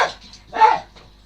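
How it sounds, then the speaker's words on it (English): A dog barks as it rushes around a kitchen, with a couple of short, fairly close yaps spread across a second and a quiet room between them. "And as you can hear there is Archie, the CFZ dog, doing what he does best, which is rushing around the kitchen barking."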